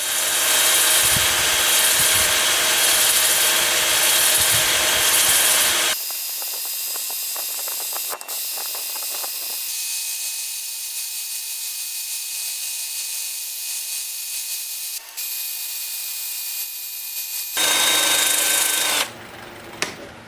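A loud, steady power-tool whir with broadband noise, then a quieter, smoother running hum for a long stretch before the louder grind returns, as a wood turning is sanded on a lathe at 80 to 400 grit.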